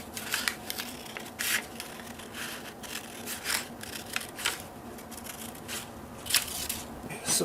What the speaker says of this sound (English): I'll just use a pair of scissors to cut those quickly